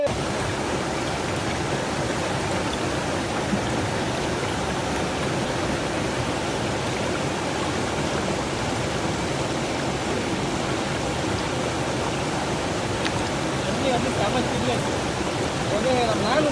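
A hillside stream flows beneath a bridge near Nagalur falls in the Kalvarayan hills, Tamil Nadu, giving a loud, steady, broadband rush of water that runs unbroken throughout.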